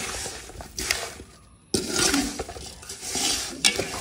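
Beef pickle mixture with chilli powder being stirred in a pan, a spoon scraping and clattering against the metal in repeated strokes, loud and close, with a short pause partway through.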